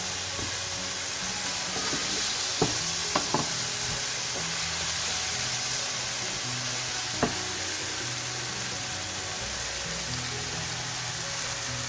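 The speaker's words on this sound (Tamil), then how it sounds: "இந்த வெந்தயமும் பொரிஞ்சு அதுக்குள்ளே இந்த தக்காளியும் பொரிஞ்சு வந்துட்டு" Fenugreek and tomatoes frying in a pan for vendhaya curry, giving a steady close sizzle over low heat with a few sharp pops and clinks of stirring scattered throughout; no one speaks.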